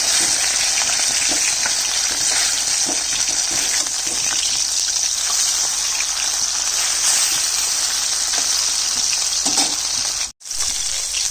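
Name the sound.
fish frying in oil after being flipped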